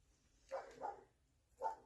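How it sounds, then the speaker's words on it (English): A dog barks quietly from somewhere off to the side indoors, giving two short, muffled barks about a second apart against a quiet background. "This dog barking nonsense is gonna get real old real fast."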